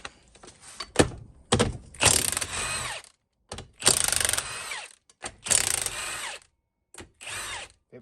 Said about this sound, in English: I would recommend just go ahead and get a 1/2-inch gun on them